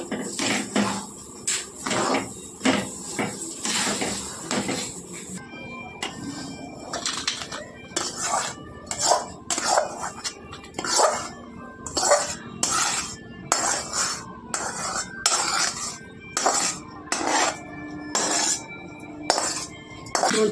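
Sesame laddu mixture stirred in a pan, with a spoon scraping and knocking against the metal in repeated short strokes, close and fairly loud, with occasional quiet pauses.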